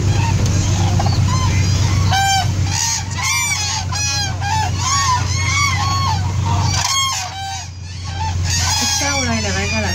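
A large flock of domestic fowl, geese and chickens, calls constantly and close by, with overlapping honks, clucks and crowing rising in repeated bursts over a steady low rumble.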